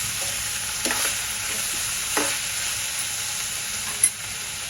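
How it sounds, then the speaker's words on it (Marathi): Onion with a pinch of salt sautés in a pan for a Dhaba-style paneer bhurji, giving a steady close sizzle throughout with a few soft stirring scrapes and a light clink near the end. "कांदा गुलाबीसर होईपर्यंत आपण छान परतून घेऊया."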